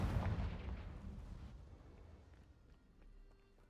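Confringo fire spell blasting in the video game Hogwarts Legacy, a loud deep boom at the start that rumbles and fades over a few seconds into quieter background.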